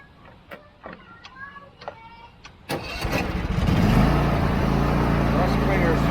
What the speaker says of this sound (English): Start it up, see if we can spit parts out.